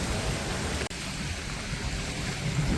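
Strong floodwater rushes past in heavy monsoon rain on a pilgrimage route near Vadgaon, a dense, steady roar that continues unbroken apart from one momentary dropout.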